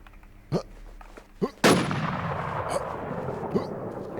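Gunfire in the video game Warz during PvP play: a few sharp isolated shots, then one louder blast with a rumbling tail and scattered softer pops.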